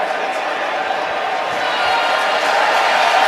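Crowd at an NFL game between the Carolina Panthers and Chicago Bears at Soldier Field: a dense, loud roar of many voices swelling slightly over a few seconds, with commentator talk mixed in.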